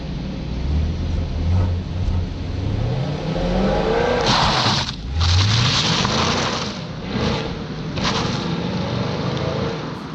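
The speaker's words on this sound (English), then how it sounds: "But here is that acceleration test, a quick view from outside of the Camaro." A 2020 Chevrolet Camaro SS accelerates hard on a wet, slippery road, seen from outside, its engine rising in pitch through several gear changes with brief dips between shifts, loud and close throughout.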